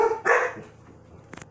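Indoor dogs giving a quick close bark, then a second brief bark after a short pause, heard alone with no talk.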